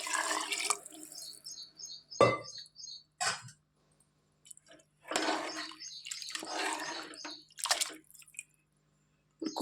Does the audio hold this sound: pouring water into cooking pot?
yes